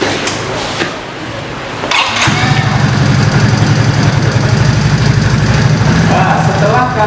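A vehicle engine is started during a hands-on automotive test, firing up abruptly after a moment of quieter noise and then running in a loud, steady idle.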